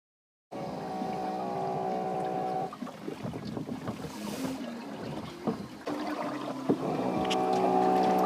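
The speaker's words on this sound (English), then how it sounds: "is the noise the autopilot makes when people aren't rowing hard enough" Ocean rowing boat on the Indian Ocean with its autopilot steering unit whirring and droning in sustained bursts, mixed with wind and water sloshing against the hull.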